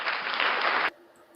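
A burst of applause from a sound-effect button, a dense wash of clapping that plays loudly for under a second and then cuts off abruptly, leaving quiet room tone.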